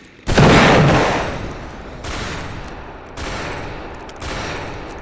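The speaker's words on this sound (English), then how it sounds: "As gunshots ring out outside these chambers" Gunfire bursts in a video game, heard as loud repeated volleys of rapid shots with a rolling tail after each burst, the first burst the strongest, and no talking.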